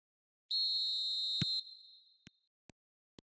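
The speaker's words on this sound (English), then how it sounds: "There's the whistle." A referee's whistle in the eFootball 2026 video game gives one long, loud, shrill blast with a short trailing tone, then three brief faint ticks follow.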